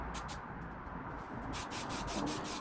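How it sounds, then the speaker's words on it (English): A belt sander working the back pieces of a wooden Adirondack chair, a steady rubbing, abrasive hiss with rhythmic strokes and scraping pulses, fairly close and moderately quiet. "I went also back to the belt sander and just sanded the back pieces of that face off so I can get it smooth."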